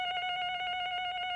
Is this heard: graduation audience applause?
no